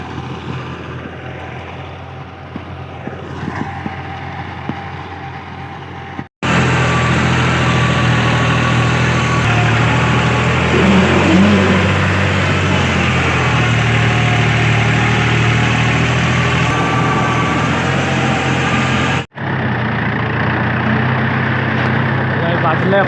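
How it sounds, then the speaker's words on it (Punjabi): A tractor engine running while sowing wheat in a field, a loud steady droning hum that cuts in abruptly partway through and drops away near the end, with voices over it. "ਆਪਾਂ ਟਰੈਕਟਰ ਕੱਢ ਲਿਆ ਤੇ ਇੱਧਰ ਖੜਾ ਕਰ"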